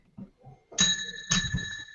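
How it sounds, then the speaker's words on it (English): Game show double bell chime rings twice in quick succession, bright sustained tones with a pause between strikes, loud and clear after a brief murmur of voices. "Double bell."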